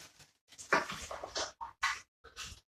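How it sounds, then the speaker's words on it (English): A dog crunches and chews an apple in a kitchen, making close, uneven bursts of wet crunching and munching with short pauses between bites and no talking. "Dog's eating apple."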